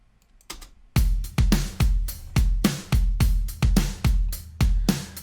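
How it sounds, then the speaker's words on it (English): Snare drum struck in a studio live room with the room mics muted, about ten dry, tight hits in a steady rhythm, close and fairly loud with a short decay. "But if I mute the rooms, it will sound like this"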